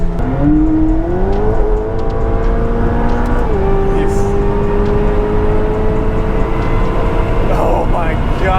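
A supercar accelerates hard with a brief wheel spin, its loud, close engine note climbing steadily and holding a strained, high tone through a long pull, with faint talk underneath.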